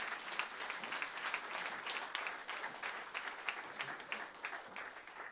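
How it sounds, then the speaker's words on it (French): A church congregation at a French-language online worship service applauds with sustained, dense clapping that stays steady and loud throughout, with no voices standing out. "Et acclamons très fort le Seigneur."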